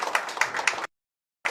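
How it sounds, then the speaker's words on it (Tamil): An audience at a music album launch event claps together in a brief burst of applause, close and crisp, then it cuts to silence before one more clap returns. "அதுக்கு ஒரு பலத்த கைத்தட்டல் கொடுத்துடலாம்"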